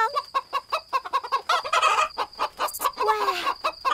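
A big chicken clucks close by in rapid, rhythmic bursts, the repeated cackles rising into a louder squawking run before settling back into steady clucks.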